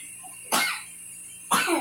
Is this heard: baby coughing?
yes